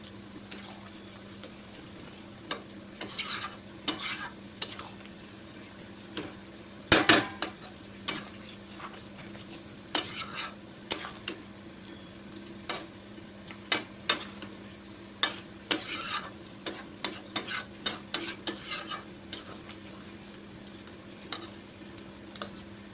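Fish and potato pieces are gently turned in simmering gravy in a pan, with soft, scattered clinks and scrapes of a utensil against metal over a low, steady background.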